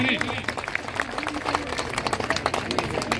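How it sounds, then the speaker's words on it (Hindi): Scattered clapping from a crowd at a public political gathering welcoming guests, uneven sharp claps spread across the whole stretch, fairly close, with voices talking throughout. "तालियों से, गड़गड़ाहट से जो है तालियों का स्वागत करें"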